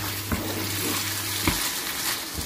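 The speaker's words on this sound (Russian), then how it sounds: "Тщательно перемешиваем" A spoon stirs minced meat filling in a frying pan, sizzling steadily up close, with a few sharp scrapes against the pan.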